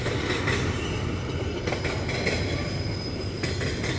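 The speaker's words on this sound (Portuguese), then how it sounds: "Esse trem aí seguindo pro interior de São Paulo." Empty freight train climbing the Serra do Mar in São Paulo state, wheels striking a rail joint with repeated clickety-clack beats over a steady rolling rumble, close by and with no talking.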